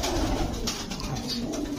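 Pigeons at a bird market coo in low, throaty repeated calls over a busy background murmur, fairly close and continuous.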